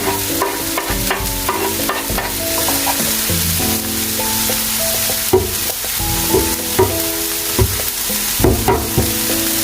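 Chili, scallion and mushroom pieces fry in a hot pan while a spatula stirs them, bringing a steady sizzle with repeated scraping and clacking strokes close by, no voices.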